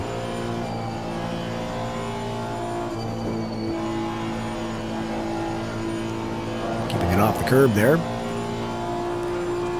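A race car in Assetto Corsa Competizione holds full throttle down Monza's long back straight, a loud steady engine drone with layered harmonics and a brief rough burst near the end, while someone talks over it.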